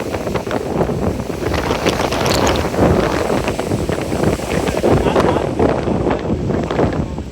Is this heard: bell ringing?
no